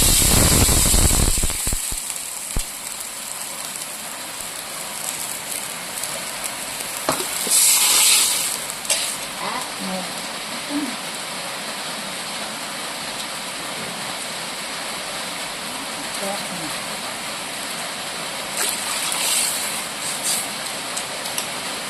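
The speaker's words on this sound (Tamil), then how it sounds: "தண்ணி அளந்து 1 லிட்டர் ஊற்றிக்கலாம்." Water poured into a cooking pan in a village kitchen during stormy rain, a steady rushing pour with a louder splash early on, continuous and fairly near, no talking.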